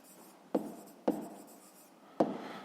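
Pen strokes writing numbers by hand on paper during a fifth-grade math exercise, three short scratchy bursts spaced about half a second to a second apart, close and quiet with no talking.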